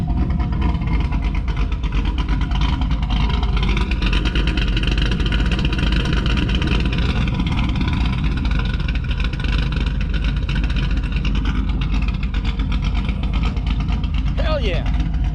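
A home-built Camaro Z28 engine with a big cam idles close and loud, a choppy rough lope throughout, while someone talks over it.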